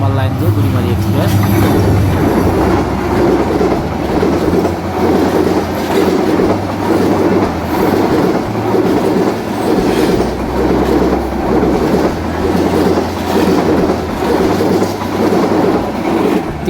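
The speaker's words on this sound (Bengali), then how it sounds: "বুড়িমারি এক্সপ্রেস আজিমনগর রেল স্টেশনের 2 নম্বর লাইন দিয়ে এই মুহূর্তে প্রবেশ করছে" Burimari Express, the 809 Up meter-gauge train from Dhaka, rolls into Azimnagar station on line 2, a loud steady rumble of wheels with rhythmic clickety-clack over rail joints throughout, with talk over it.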